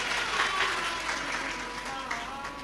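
Loud, sustained clapping from a large audience at a live Shiv Mahapuran religious discourse, a dense steady wash of applause lasting throughout with no break.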